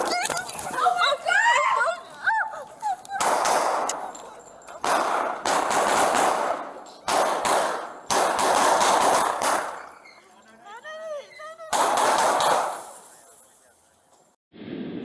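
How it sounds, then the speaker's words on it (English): Sharp bursts of loud gunfire come in several rapid volleys at a gas station police shootout in Phoenix, separated by pauses where a dog barks and voices shout. "as they exchange gunfire"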